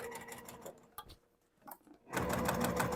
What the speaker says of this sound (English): I'm going to add a few extra security stitches here.